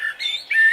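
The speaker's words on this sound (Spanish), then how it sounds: "Este pajarito trina todas las mañanas junto a mi ventana." A small bird gives a brief, high-pitched chirping call, a couple of thin whistled notes close by with no other sound.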